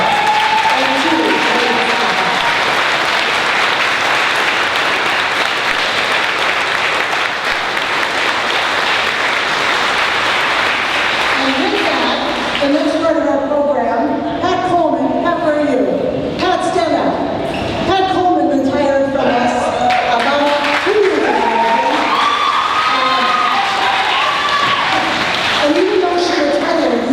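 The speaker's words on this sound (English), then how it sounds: "let's give them all a great round of applause" Applause for teachers and staff at an alternative high school graduation, a loud crowd clapping for about the first half before thinning out as voices and crowd chatter take over.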